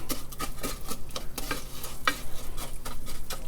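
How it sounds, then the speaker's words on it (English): Rice grains are stirred through hot oil in a pan, with a soft steady sizzle under repeated scraping strokes of the spoon, close and continuous. "rice into the oil. You want to give that a stir."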